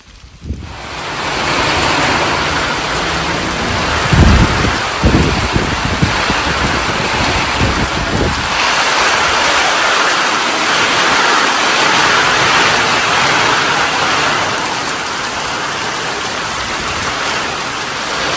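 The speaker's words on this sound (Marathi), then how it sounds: "पाऊस पण हळूहळू सुरू होतो आहे" Rain begins falling in Konkan near Kankavli, a steady broad rushing wash mixed with wind buffeting the microphone, with a few low thumps early on and no speech.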